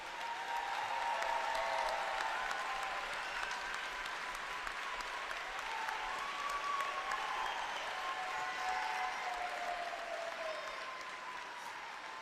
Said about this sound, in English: I want to get everybody give them a round of applause for being here